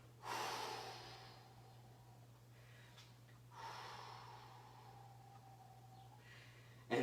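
Deep breaths during a yoga session: a strong whooshing exhale at the start, a quieter second long breath midway, and a sharp intake at the very end, all over a steady low mains hum with no talking.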